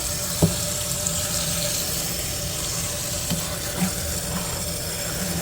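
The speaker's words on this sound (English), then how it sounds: "Just going to fill the sink and then let them soak." A tap runs water into a kitchen sink to soak collard greens, a steady, moderately quiet hiss and splash lasting throughout, with a few faint knocks.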